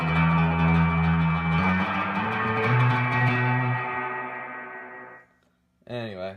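An electric guitar played through a Carr Mercury V amp rings out in sustained chords drenched in surfy reverb, decaying over several seconds before a brief new phrase starts.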